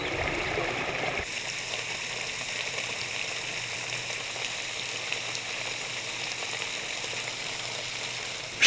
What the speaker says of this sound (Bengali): শৈলপ্রপাত নামের এই শৈল নির্ঝরিণী কখনো বইছে পাথুরে সমতলের উপর দিয়ে, কখনো বা ধাপে ধাপে নেমেছে নিচে।